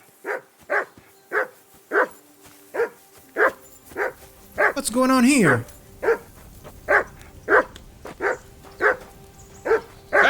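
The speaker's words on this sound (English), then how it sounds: "That barking was a pain in the ass." Repeated sharp barks from a dog in Kingdom Come: Deliverance 2, evenly spaced and close, continuing steadily through the clip, with a brief whining yelp in the middle and a short spoken line.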